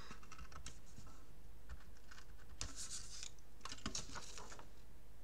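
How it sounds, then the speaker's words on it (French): Small holes are punched through folded journal paper signatures, giving a quiet series of sharp, irregular tapping and scratching clicks close by, with brief pauses between bursts. "je viens faire mes petits trous"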